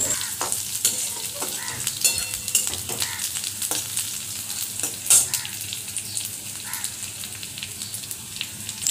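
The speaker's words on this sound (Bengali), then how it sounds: "লাল করে ভাজবো, তারপরে আমি মশলাগুলো দিয়ে দেবো" Onions, green chilies and spices sizzle and crackle in a hot pan at a home kitchen stove, with a spoon scraping and stirring through them at an even, close-up pace.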